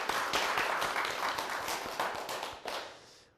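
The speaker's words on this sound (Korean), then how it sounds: "나에게 박수 한번 쳐주죠" A studio audience at a televised lecture on laughter claps together, a steady dense patter of hands filling the room, loud and close, fading a little toward the end with a final burst.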